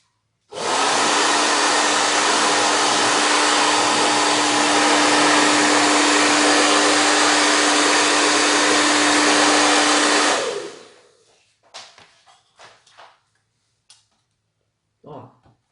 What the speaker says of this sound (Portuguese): Aqui com secador.